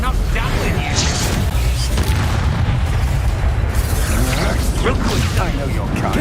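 Confringo spell explosions in the Hogwarts Legacy video game, heard as dense, loud booms and rumbling blasts that fill the whole stretch amid battle effects, with voices talking over them.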